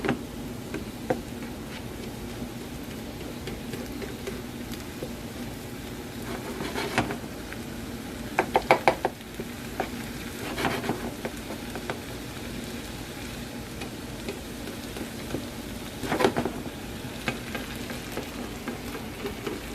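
Garlic frying in a pan of orzo pasta, a steady close crackling sizzle throughout with occasional sharper stirring and utensil clicks, no talking.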